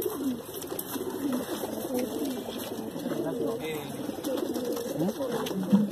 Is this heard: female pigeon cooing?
yes